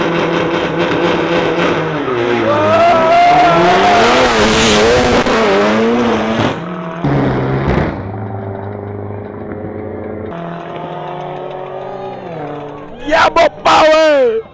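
A Mercedes A45 S launching at a drag race in Songkhla: loud engine revving that climbs and shifts through gears, then fades, with crowd noise and a few sharp bursts near the end.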